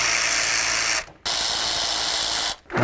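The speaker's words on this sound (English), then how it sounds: "Now we're going to remove the upper bolts that hold the fan shroud to the radiator using an 8mm." An 8mm ratchet backing out the upper fan shroud bolts on a 2005-2014 Ford Mustang, a dense, continuous rasping whir close up that breaks off twice for short pauses.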